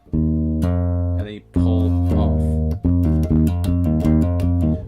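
An electric or acoustic guitar plays sustained notes linked by hammer-ons and pull-offs, with smooth slurred pitch changes, close and clear, with no talking.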